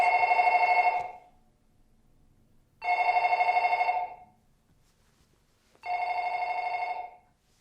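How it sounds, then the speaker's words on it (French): A piercing telephone bell rings in three long bursts of about a second each, separated by near-silent gaps, loud and alone in a tense scene from the horror film Ring. "la sonnerie du téléphone qui est assourdissante et qui dure extrêmement longtemps"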